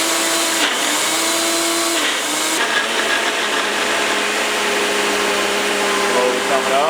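A machine grinds a frozen Wendy's Frosty, a steady loud whirring drone that runs throughout with slight shifts in pitch as the mixture thickens and rises, while a person talks over it.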